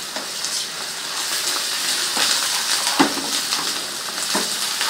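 Spices, green coriander and green chillies fry in a pan for white lentil daal, giving a steady loud sizzle with occasional stirring scrapes, close and continuous with no talk.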